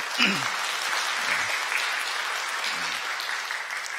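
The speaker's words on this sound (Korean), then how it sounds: "여러분들 환영의 박수 한번 부탁드리죠" A church congregation at a Sunday service claps in welcome for a choir member attending for the first time, steady even applause throughout, with a few brief low murmurs of voices rising under the clapping.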